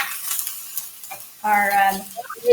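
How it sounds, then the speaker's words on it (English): Corn chowder vegetables cook in a pot, with a few soft scrapes of stirring followed by a short clink of a utensil against the pot and a quiet simmer. "So while all of this is cooking, let's give this a stir."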